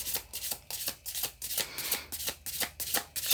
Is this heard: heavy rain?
no